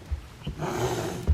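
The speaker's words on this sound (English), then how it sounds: "Simba's up there growling." A cat named Simba growls indoors, a low, rough rumble with short snorting breaths at the start and a louder throaty burst at the end, close and alone.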